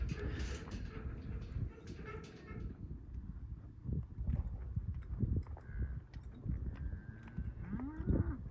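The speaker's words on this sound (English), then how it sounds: "pushing cows down the road" Cattle low and moo at intervals as they are driven down a road, amid a busy outdoor background of rustling and shuffling, with scattered hoof clatter and some faint voices.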